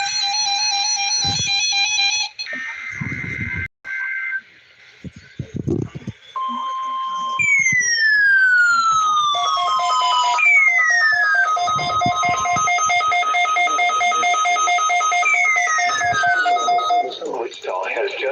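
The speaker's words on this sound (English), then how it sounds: "Wichita has just activated the warning alarm tone on weather radio station WXK92, KEC 59" A Wichita weather radio warning alarm tone from station KEC 59 sounds loud and steady for several seconds. It comes after a stretch of talk and electronic tones, with sweeping beeps layered over it.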